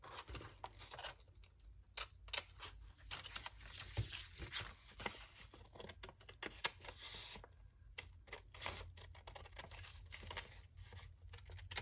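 Long scissors slice through paper for a junk journal, giving irregular crisp snips and rustling crinkles, close and fairly quiet, with short pauses between bursts and no talk.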